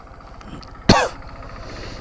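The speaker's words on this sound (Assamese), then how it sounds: "কাহ হৈ আছে গাইজ কাহ" One sharp, loud cough bursts out close by and is over in a moment, against a quiet background.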